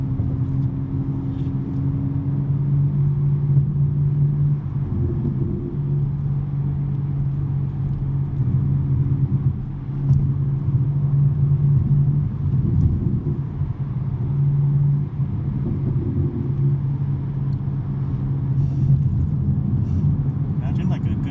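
A BMW M3 with a six-speed manual gearbox cruises on a Sunday morning drive, its exhaust a steady low drone that barely changes in pitch. People talk over it throughout.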